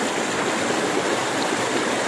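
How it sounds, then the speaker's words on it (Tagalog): A strong river current rushes under a bridge, a loud, steady roar of running water with no break and no voices. "Yan, lakas ng agos, oh."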